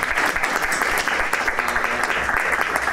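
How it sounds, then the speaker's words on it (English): Sustained applause from an audience at a panel event on new top-level domains, dense steady clapping filling the room throughout with a faint voice underneath. "A round of applause for Paul."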